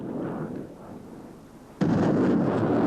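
An MLRS multiple rocket launcher fires its rockets: after a low background rumble, a sudden loud blast breaks in and becomes a sustained, heavy roar that runs to the end.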